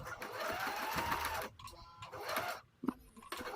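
A sewing machine stitches the side edges of a fabric bag in two quick bursts of rapid, whirring needle chatter, close and fairly quiet, separated by a short pause and followed by a soft clack.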